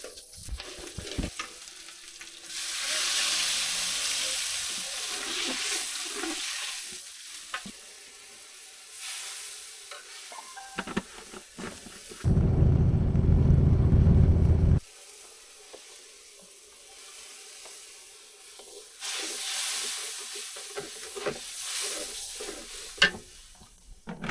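Spices and takka fish frying in oil in a wok, a loud close hissing sizzle that swells and fades in long waves, with a brief low rumbling stretch in the middle and no talk.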